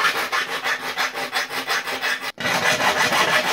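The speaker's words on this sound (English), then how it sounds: "we've got a needle file here, and we're going to just start filing the cabinet." A needle file rasps back and forth against a cabinet cut-out, a loud, close, gritty scraping in a steady rhythm of quick strokes, with a brief pause before the filing resumes.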